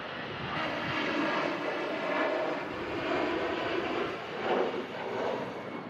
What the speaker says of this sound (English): EasyJet climbs out from 2-3 right.